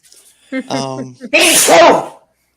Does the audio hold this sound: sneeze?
yes